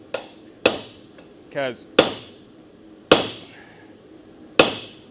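A blacksmith's hammer strikes hot metal while forging, five sharp, ringing blows spaced irregularly about a second apart, close and loud. A brief spoken word slips in between the strikes.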